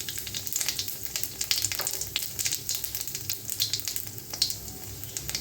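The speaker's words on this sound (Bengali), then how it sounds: "জিরাটা ভাজা হয়ে যাক।" Cumin seeds and a bay leaf fry in hot oil for an Assamese fish curry, crackling and spitting in quick irregular pops over a soft sizzle, close and fairly quiet, with no voices.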